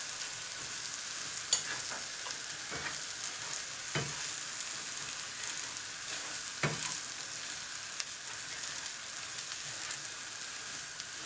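A savory filling with Chinese vermicelli stir-fries in a pan for Ramadan pastries, a soft continuous sizzle under a few scraping knocks of a utensil, with no one speaking.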